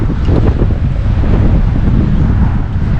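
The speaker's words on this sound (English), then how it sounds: "But this wind doesn't make it easy." Steady, loud wind buffeting the microphone beside a lake in Minnesota during fly-fishing, a continuous low roar with gusty swells and no speech.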